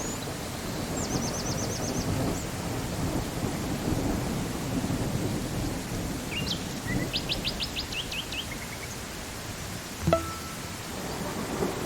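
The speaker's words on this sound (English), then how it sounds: "That is indeed the rain, Dave." Steady rain patters outdoors on a Viking-themed homestead where chicken coops are being built, a soft continuous wash with a short crack near the end and bright bird chirps repeating above it.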